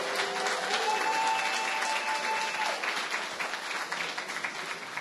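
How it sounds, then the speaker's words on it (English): At a school district board meeting the crowd gives sustained applause for district counselors, a steady wash of clapping that slowly thins toward the end, with no speech. "let's give a round of applause to our outstanding counselors from across the district."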